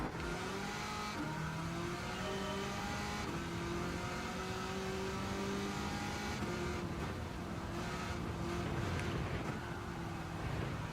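A Corvette race car engine roars steadily in the Gran Turismo 7 racing game on the Tokyo Expressway, rising and falling in pitch through gear changes as a continuous loud drone with no talk.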